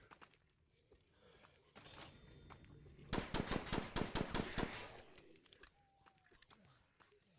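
Rapid bursts of pistol gunfire in a VRChat zombie survival game, a loud run of sharp shots fired in quick succession amid faint game noise.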